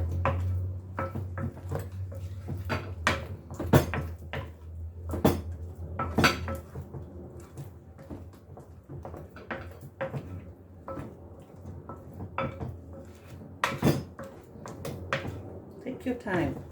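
Eclair choux dough being mixed by hand without a cake mixer, with repeated scraping and clanking of a utensil against a bowl in irregular strokes close by, interspersed with speech.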